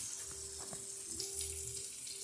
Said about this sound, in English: I'm going to go ahead and put in my 2 cups of water.